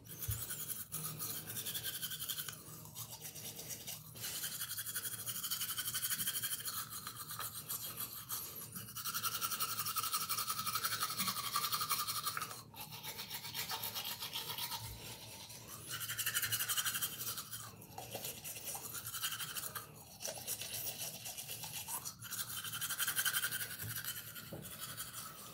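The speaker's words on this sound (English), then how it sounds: "Now I'm just gonna brush my teeth." Someone brushes their teeth with a toothbrush over a sink, producing close, continuous scratchy bristle scrubbing in rhythmic back-and-forth bursts with brief pauses, no talking.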